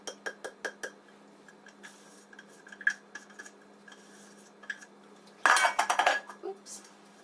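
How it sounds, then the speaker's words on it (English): Dry ingredients are spooned into a bowl of flour for pumpkin spice muffins, with a run of sharp utensil clinks and taps against the bowl and a denser burst of metallic clatter near the end, close and fairly quiet. "We're going to add the baking soda and the baking powder."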